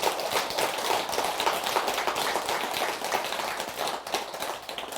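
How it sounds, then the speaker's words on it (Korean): Warm audience applause for the great monks at a Buddhist dharma talk: dense, steady clapping from a large crowd, continuous and fairly loud throughout, with no talking over it. "우리 국민들과 우리 불자님들 위해서 기도해 주시고 또 응원해 주시는 훌륭한 전국의 대덕 큰 스님들께 뜨거운 박수 주시기 바랍니다."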